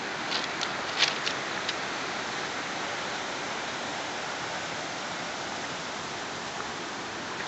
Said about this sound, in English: The stream of water is making a pretty pleasant noise, and I seem to be able to hear one more waterfall